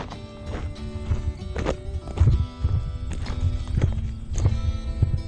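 Horses walk along a hiking trail in the Grayson Highlands, hooves clip-clopping in a steady uneven rhythm, fairly close and moderately loud, with a brief whinny-like sound and no talk.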